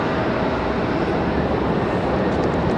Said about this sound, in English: Sounds like we got JetBlue out there for arrival